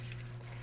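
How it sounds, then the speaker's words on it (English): Extra large shrimp sizzle steadily in a hot non-stick wok, a continuous crackling hiss with a low hum beneath, fairly quiet and close. "Ah, that wonderful sizzling sound."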